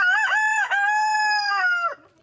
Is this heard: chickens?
yes